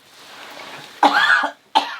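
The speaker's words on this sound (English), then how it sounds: "I have to cough." A single close, loud cough with a harsh throat-clearing quality, followed a moment later by a second short cough, heard alone against a quiet room during a chatty review of a drag competition series.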